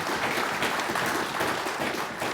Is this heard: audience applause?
yes